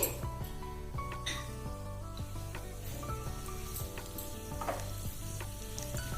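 Mustard seeds and a dried red chilli sizzle in a spoonful of hot oil for a South Indian tomato rasam tempering, with a steady crackling fry throughout, close and moderately loud, and faint music running underneath.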